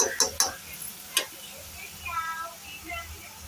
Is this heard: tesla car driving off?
no